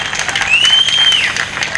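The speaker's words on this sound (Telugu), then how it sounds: "ఒకసారి గట్టిగా చప్పట్లు కొట్టాలి" An audience clapping at a speech event in Chimakurthy, a dense continuous patter of many hands at fairly loud level, while a high whistle-like tone rises and holds briefly in the middle.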